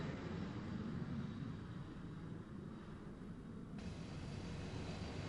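An airplane flies past with a steady, broad engine roar and rush that holds at a constant level and sounds fairly close throughout, with no voices.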